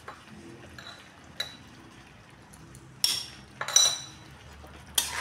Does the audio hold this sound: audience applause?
no